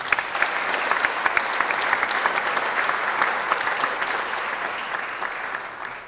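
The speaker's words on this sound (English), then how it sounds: "Give him another round of applause." An audience at a small business awards event gives a sustained round of applause, a thick wash of clapping with a few sharper claps standing out, holding level for about six seconds before easing off slightly.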